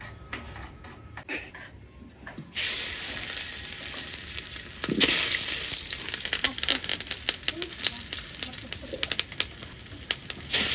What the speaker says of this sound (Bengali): আলুটা হালকা লাল লাল করে ভাজা হয়ে গেছে, এখন তুলে নেব।